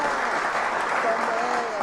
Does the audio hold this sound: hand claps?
yes